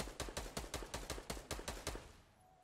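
Rapid gunfire in the Fortnite video game: about a dozen evenly spaced shots in a quick burst, close and punchy, ending abruptly with a faint tail.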